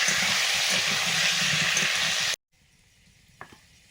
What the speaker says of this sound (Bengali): আলুগুলো সব ভাজা হয়ে গেছে